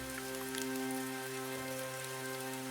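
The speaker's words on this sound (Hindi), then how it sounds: "तभी अचानक एक जोरदार बिजली चमकी और पल भर में मूसलाधार बारिश शुरू हो गई।" A sudden heavy downpour of rain gives a dense, unbroken hiss that fills the whole stretch, with a low steady hum running underneath.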